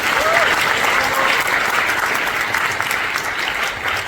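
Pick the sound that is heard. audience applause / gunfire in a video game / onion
audience applause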